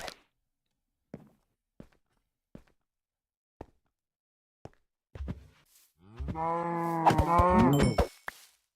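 A cow in the video game Minecraft gives one long, loud, drawn-out moo near the end, after several sparse, soft clicks and taps.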